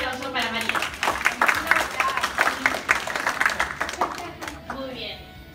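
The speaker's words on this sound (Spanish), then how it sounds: "Un aplauso para María." An audience at a community event applauds, scattered hands clapping for a few seconds beneath cheering and voices.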